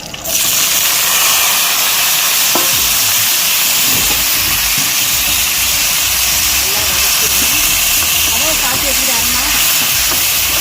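Fenugreek and cumin splutter in hot oil for a chicken gravy, a loud, unbroken hiss that starts abruptly and holds steady, with a faint voice murmuring underneath toward the end.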